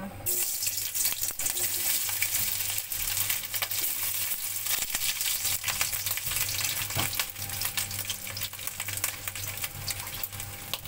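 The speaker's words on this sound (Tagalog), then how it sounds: "Magigisa po tayo ng fried rice" Spam fried rice sautéing in a pan, a steady loud sizzle with scraping and stirring clatter throughout, close by and continuous with no talk.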